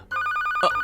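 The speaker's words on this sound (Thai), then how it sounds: "นั่นเป็นเสียงโทรศัพท์ของใครเอามาให้ฉันเดี๋ยวนี้เลย" Phone ringtone: a rapid, bright trilling ring pulsing evenly for under a second, loud and close, with no talk over it.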